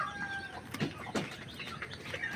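Small chicks give thin, high peeps scattered across a rural farmyard in Bohol, with light clucking and rustle around them, fairly close and moderately loud.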